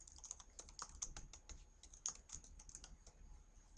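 Steady, brisk typing on a computer keyboard, close and fairly quiet, with irregular clicky keystrokes running throughout and no talking.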